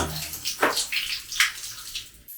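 Shower water runs and splashes in a cheap guesthouse bathroom, a close, steady hissing spray with uneven splashy surges, ending abruptly.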